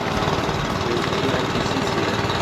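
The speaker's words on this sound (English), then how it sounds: "heard the loud rumbling of the engines and smelled the exhaust" A steady, loud boat engine drone rumbles on without a break, a constant motor hum with no voices over it.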